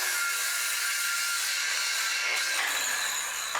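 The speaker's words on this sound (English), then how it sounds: "all I'm going to do is cut some 1x4s down to length." Lengths of 1x4 wood board are cut down with a saw, a steady, harsh rasping cut that runs loud and unbroken without any talking.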